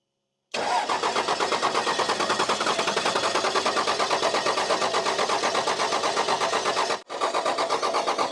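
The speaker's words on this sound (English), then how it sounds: "Okay, try and crank it." A car engine with a bad fuel lift pump, just bled, cranks and catches, then runs at a steady, loud, rapid chugging idle up close, with a brief dropout near the end before it carries on.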